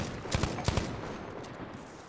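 Rapid bursts of FG42 automatic rifle fire in the Battlefield V shooter, two short volleys of sharp close shots in the first second, followed by lingering battlefield ambience with no talk.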